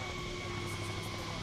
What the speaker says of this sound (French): Il doit être juste. Ah, c'est un hélico.